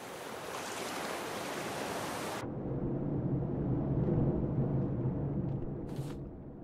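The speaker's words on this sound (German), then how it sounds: "Das Meer wird ungemütlich." Rough sea waves in the survival video game Raft surge and wash in a loud, steady roar with wind, briefly cutting to a muffled underwater rumble before the surf returns.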